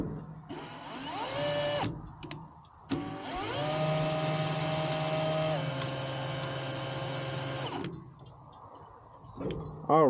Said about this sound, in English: so what we have here is steady spinning on the drill